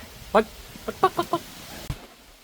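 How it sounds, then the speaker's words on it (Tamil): A chicken clucks nearby in a short series of five or so quick, nasal calls against a quiet background. "பாவம் போல் ஒரே ஒரு கோழி இருக்குது."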